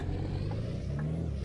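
A heavy truck engine rumbles steadily at low pitch, with a slight shift in tone like a gear change partway through; a DAF XF Euro 6 without a trailer in Euro Truck Simulator 2.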